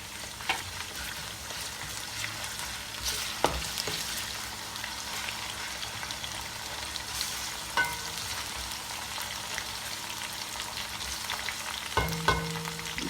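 Tomatoes frying slowly with onion and ginger-garlic paste in a pan, a steady soft sizzle that runs throughout with occasional clinks and stirring taps, close and even, no talking.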